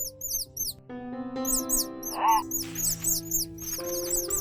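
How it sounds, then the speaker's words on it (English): Baby birds squeaking under a house roof: many rapid, high-pitched chirps repeat throughout, close and busy, over a low background hum and some rustling. "My dog and I started noticing a strange periodic squeaking under the roof of our house this summer."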